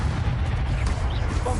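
Confringo fire-blast spell cast in Hogwarts Legacy, a loud rumbling blast with heavy low-end roar filling the whole moment, dense and close.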